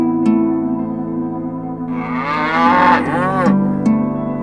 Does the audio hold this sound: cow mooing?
yes